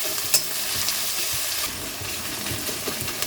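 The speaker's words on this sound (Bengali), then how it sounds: "এখন এই পেঁয়াজগুলো ভেজে নিচ্ছি" Chopped onions frying in hot white oil for birista give a loud, close, continuous hissing sizzle, with occasional soft stirring scrapes and no voices.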